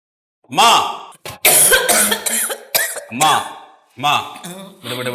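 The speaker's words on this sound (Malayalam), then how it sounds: "എന്താ അങ്ങനെ ചുമ?" Several harsh coughs burst out close by, mixed with voices talking throughout.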